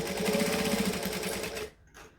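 A sewing machine back stitching at the start of a seam on a unisex sling bag, a close, rapid mechanical whir for under two seconds before it stops.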